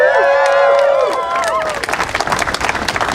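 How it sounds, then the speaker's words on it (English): A gathered crowd cheers with whoops and high shouts, then breaks into dense applause and clapping. "Give them a cheer."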